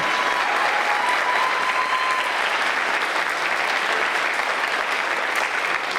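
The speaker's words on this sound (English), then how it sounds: "one more round of applause for all of our contestants in the week category." A crowd at a pageant applauds its contestants in a continuous, even roar of clapping that holds at full strength throughout, with faint cheers mixed in.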